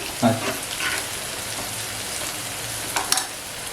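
Prawns fry on a flat iron tawa with a soft, even sizzle, a few louder spits and clinks at the start and near the end, and no speech.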